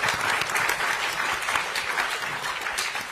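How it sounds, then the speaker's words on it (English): Audience applause for panelists after a panel discussion on climate habits: continuous, dense clapping from a sizable crowd, steady and fairly loud for the whole stretch. "let's give our panelists a big round of applause"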